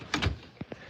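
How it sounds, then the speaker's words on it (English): A door being shut at a farm animal sanctuary: a quick rattle and bump, then two short, soft knocks as it settles closed, all close by with no talk. "I gotta shut the door"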